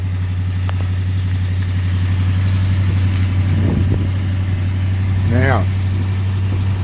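A 1987 Jeep Grand Wagoneer, original and under restoration, idles smoothly and steadily close by, with someone talking over the low, even engine hum.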